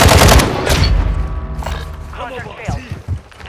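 Gunfire in Call of Duty: Modern Warfare II Resurgence, a loud burst of shots at the start followed by scattered game sounds, with people talking over it.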